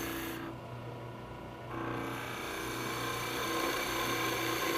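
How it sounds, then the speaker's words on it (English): A skew chisel takes light cuts on wood spinning on a turning lathe while making a Christmas ornament, a soft continuous rasping over the lathe's steady hum, with no voices. "down towards the brass, just making light cuts. Using only the heel of the skew or the lower corner."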